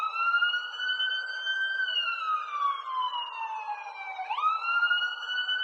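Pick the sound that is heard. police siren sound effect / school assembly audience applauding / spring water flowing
police siren sound effect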